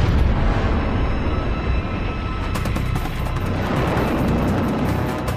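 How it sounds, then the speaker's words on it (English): A live torpedo detonating aboard the destroyer escort USS Smith in battle, a dense, loud roaring blast with rumbling debris that fills the whole stretch without a break. "her sailors have no idea that a live torpedo is about to detonate"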